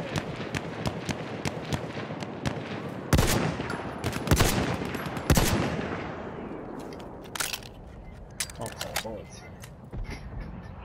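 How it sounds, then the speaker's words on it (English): Sniper rifle gunfire in Battlefield 1, several sharp loud cracks spaced a second or so apart over dense battlefield noise, with bursts of distant shooting and a voice talking over it. "I feel like I'm shooting a sniper rifle."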